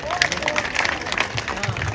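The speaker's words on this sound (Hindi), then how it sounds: "एक बार धनारा गांव की सरदारी के लिए जोरदार ताली बजानी चाहिए" A crowd at an outdoor protest sit-in claps loudly in honour of the Dhanara village elders, a brisk roll of many hands mixed with crowd murmur and shouting throughout.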